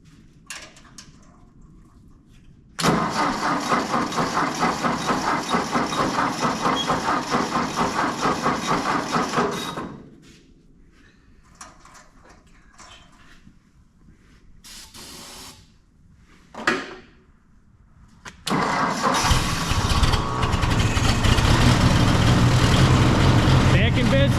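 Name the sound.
Ford Golden Jubilee tractor engine starting and running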